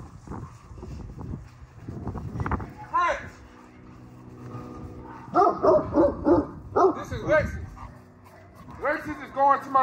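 A dog named Lexus barks in short loud bursts nearby, with whimpers and yips between the barks and people talking over the commotion.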